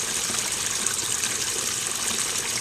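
Water pours steadily into a backyard garden waterfall, a constant close splashing hiss and trickle with no pauses and no voices.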